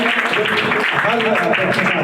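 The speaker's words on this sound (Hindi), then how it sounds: "एक बार जोरदार तालियां" Loud, dense applause from an audience at a retirement party, a steady wash of clapping with a few voices mixed in throughout.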